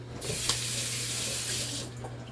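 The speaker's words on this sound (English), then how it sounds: "Then wash your hands again." A kitchen tap runs steadily while hands are washed at the sink between steps of cooking scrambled eggs, a close, continuous splashing stream that keeps going for a couple of seconds before easing off near the end.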